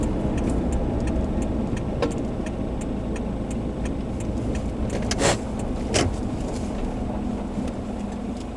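A car drives along a road toward the North Kent marshes near Capel Fleet on the Isle of Sheppey, its steady engine and road rumble continuous and close, with a few brief clicks and knocks inside the cabin and no talking.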